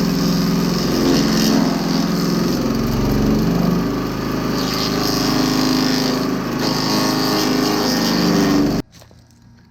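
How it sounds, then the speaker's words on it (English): A Tazz K33 chipper shredder with a 301cc Viper engine runs loudly and close, a steady high-revving small-engine roar with grinding texture, clogged and blowing chips back out of the chute, before cutting off abruptly near the end. "When you see chips blowing back out of the chute like this is the indication that the discharge is clogged or perhaps the bag is full."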